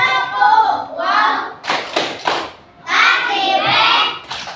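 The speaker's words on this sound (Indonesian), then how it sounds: "Nah, kita berikan tepuk bau dulu untuk Atika." Children in a classroom perform a rhythmic clapping chant, with sharp clustered hand claps between stretches of sung or chanted voices, close and lively.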